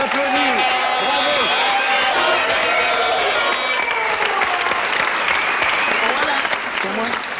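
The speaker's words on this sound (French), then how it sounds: "Dorothée, mesdames, messieurs, on l'applaudit" Audience at a French television variety show breaks into sustained applause, a dense, steady wash of clapping mixed with crowd noise and a voice speaking over it.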